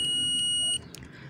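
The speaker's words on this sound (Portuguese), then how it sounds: "E continuidade, que é o que dá o bipzinho, ó." A digital multimeter set to diode and continuity mode gives short, high electronic beeps while testing the wiring of a Yamaha YBR Factor 125 motorcycle, three evenly spaced tones, clear and close, followed by quiet.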